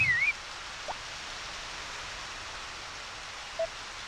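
Steady soft rain hiss from the farming video game Harvest Moon: Back to Nature, a constant wash of noise running through the whole stretch with a couple of tiny interface blips.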